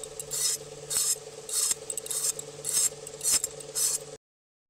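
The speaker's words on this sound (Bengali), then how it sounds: "পটলের গায়ে যে সবুজ ছালটা জাস্ট সেটাই আমি তুলে দেব" Rhythmic rasping scrapes as a knife peels the thin green skin from pointed gourd (potol), about ten short strokes in a steady pattern, close and crisp over a faint steady hum, then silence.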